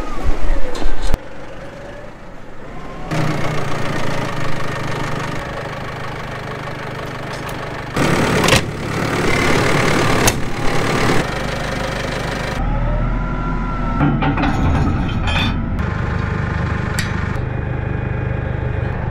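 A tractor engine idles with a steady low rumble on a farm, its works clogged with shredded rapeseed stalks, punctuated by clanks and shifting mechanical noises, fairly loud and nearby.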